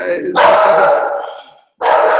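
A neighbouring dog barking in short, sharp bursts, fairly loud and close, with a brief gap between volleys.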